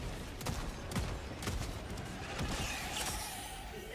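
Gunfire in a video game: a series of sharp shots spaced roughly half a second apart over a steady background rumble, moderately faint and fairly distant, with no one talking.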